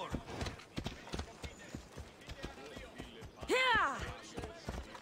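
A horse's hooves clip-clop in a steady trotting rhythm in the Assassin's Creed Odyssey video game, close and moderately loud, with a brief neigh or whinny partway through.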